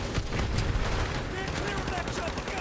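Rapid bursts of gunfire crackle continuously in Call of Duty: Modern Warfare 2 Remastered while someone talks over the din.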